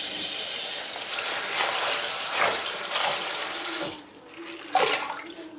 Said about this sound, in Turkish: Ispanakları da böyle her koyduğumda kumunu kolay bıraksın diye hafif çırpıyoruz.